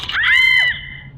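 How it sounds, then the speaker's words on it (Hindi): A woman's sharp, loud scream of pain rises and then trails off over about a second, close and alone, in a horror story about a finger caught in a sewing machine. "मुंह से चीख निकल गई"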